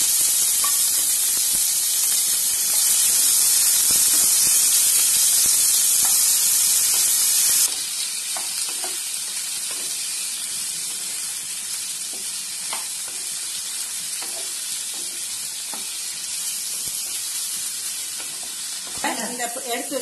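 Tomatoes dropped into a hot pan for a spicy onion-free chutney hiss with a loud burst of sizzling, then settle into a steadier crackling fry with occasional stirring scrapes.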